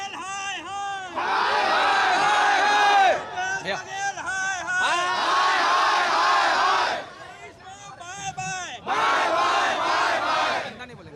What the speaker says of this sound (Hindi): अब आप पूरे चौक पे देखेंगे तो एकदम छात्रों की भीड़ पूरा जैसे पूरा पट गया हो